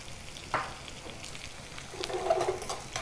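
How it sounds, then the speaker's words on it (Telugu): Mustard seeds, curry leaves and asafoetida fry in hot oil for a tempering, a quiet steady sizzle with a few small pops and crackles, heard alone. "కొద్దిగా ఆవాలు, కరివేపాకు రెమ్మలు, చిటికెడు ఇంగువ వేసుకోవాలి."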